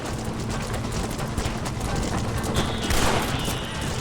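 Gunfire in the Red Dead Redemption video game, a rattling fusillade of shots crackling over constant background game noise, with a denser burst near the end and no talk.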